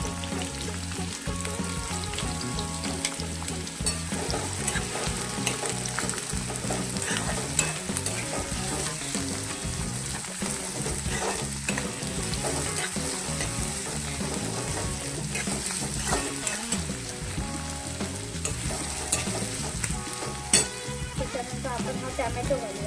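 Chopped onion fries in a pan as the base of a paneer tikka masala gravy, a long, dense crackling sizzle with frequent stirring scrapes and clatter, close and steady.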